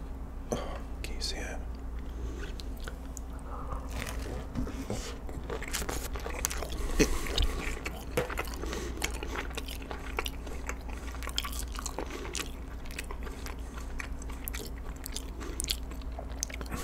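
Texas toast bitten and chewed close to the mic alongside garlic chicken pasta, a run of crisp crunches and wet chewing amid soft whispering and a faint steady hum.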